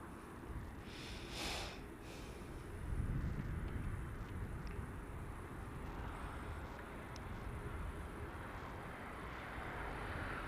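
A Lufthansa Boeing 747 lines up on the runway at LAX, its jet engines giving a faint, distant, continuous low rumble that swells slightly partway through.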